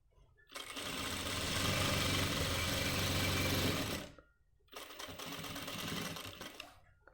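Sewing machine stitching the pocket of a men's pant, a loud continuous whirring hum for several seconds, a brief stop, then another run.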